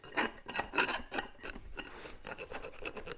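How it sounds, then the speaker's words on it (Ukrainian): A round hand file rasps through the holes of a brake caliper bracket in quick, rhythmic back-and-forth strokes, close and clear with no talk. "Беремо напилок круглий"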